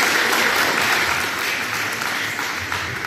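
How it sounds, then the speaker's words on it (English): A crowd at an NBA District fan event in Abu Dhabi applauds steadily and loudly for a few seconds, a thick wash of overlapping claps with no break. "Guys, clap it up for my friend right here."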